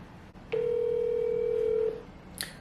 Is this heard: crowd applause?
no